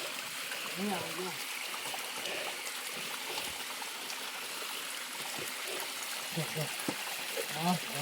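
A small waterfall flows with a steady, broadband rush of water, trickling and splashing continuously, while people talk intermittently over it.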